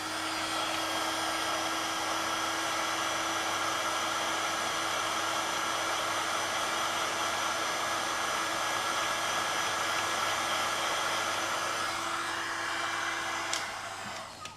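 A heat gun blows steadily, close and fairly loud, as shrink tubing is heated over a wire during repair of a Bremi BRL200, a constant whooshing hum that drops off at the very end.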